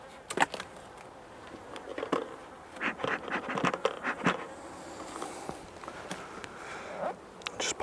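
Honey bees buzz near an open hive during an inspection, their hum rising and falling under scattered taps and scrapes of frames and tools, close and fairly quiet with no voices.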